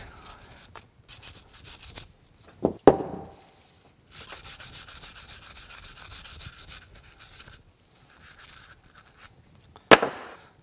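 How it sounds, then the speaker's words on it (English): Gummed-up exhaust valve from a 700 Ski-Doo snowmobile engine scrubbed with a small brass brush, with bursts of close, dry, rasping brushing separated by pauses and punctuated by a couple of sharp knocks, no talking. "we're gonna have to use our little brass brush"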